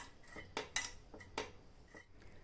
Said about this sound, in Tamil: இந்த பருப்புக்கு தேவையான அளவு உப்பு சேர்த்துட்டு நல்லா இந்த மாதிரி கலந்து விட்டுக்கிறேன்